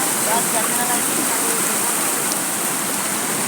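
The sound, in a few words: flood water rushing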